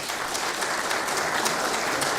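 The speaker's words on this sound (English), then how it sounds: "now it's time to applaud the first position" A crowd at a corporate report awards ceremony claps steadily and densely throughout, loud and continuous, with no voices above it.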